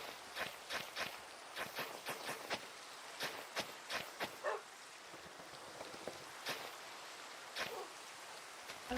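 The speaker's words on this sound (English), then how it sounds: "Ugh, that's rain." Steady hiss of rain in Minecraft falls throughout, with a series of soft, evenly spaced thuds, like footsteps, running over it.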